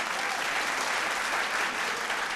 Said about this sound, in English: a massive round of applause for Annette Poi Poi